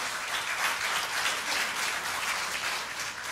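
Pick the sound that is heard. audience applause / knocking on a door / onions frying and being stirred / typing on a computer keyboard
audience applause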